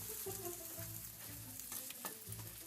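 Food simmers over a wood fire in a restaurant kitchen in São Tomé, cooked with local wild ingredients. A steady, close sizzle and crackle runs throughout, with faint tonal sounds in the background.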